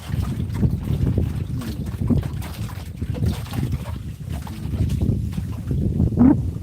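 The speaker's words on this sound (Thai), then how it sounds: "ลมแรงไหมครับ" Strong wind buffets the microphone outdoors near an elephant keeper, a loud, continuous rumbling roar with gusty surges throughout and no clear talk.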